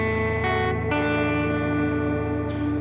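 A Telecaster electric guitar on its neck pickup, played through a ToneX pedal with EQ, compression and hall reverb, rings out in sustained, layered chords that change twice and hold at an even, loud level.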